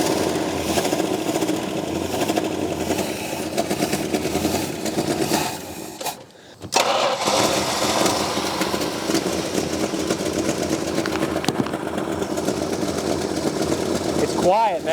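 1971 Plymouth Roadrunner V8 engine idling with a stuck carburetor float, a steady loud running drone that drops out briefly midway before resuming, with voices talking over it.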